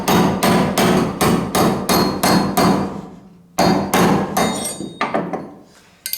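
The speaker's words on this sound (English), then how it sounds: "So I just took a smaller bolt, came up through the bottom, and to knock this one loose." A bolt is hammered against a truck door hinge pin on a 1973-1987 Chevy truck. The hammer strikes land in two rapid bursts of sharp metallic blows, loud and close, with a short pause between the bursts.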